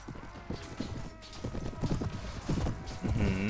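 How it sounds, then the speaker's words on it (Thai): Galloping horses in the video game Mount & Blade, a steady rapid clip-clop of hooves over battle noise, loud and continuous with a brief whinny near the end. "ม้ากูวิ่งเร็วกว่าม้ามึงแน่นอน"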